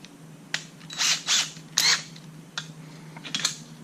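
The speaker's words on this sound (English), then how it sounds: "Get my drill bit in my cordless drill." A cordless drill whirs in several short bursts of a few seconds or less, separated by pauses, nearby and moderately loud over a faint hum.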